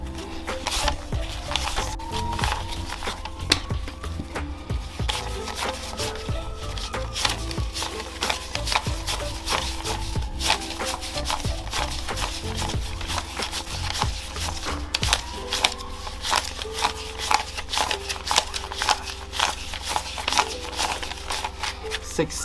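Leftover paper cash bills counted by hand, a dense run of quick close rustles and flicks of notes going on throughout, mixed with faint background sounds.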